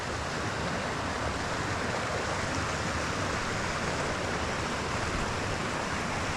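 At Lewisburn, water rushes through a gap between two boulder slabs as a dense, steady roar that fills the whole clip without a break.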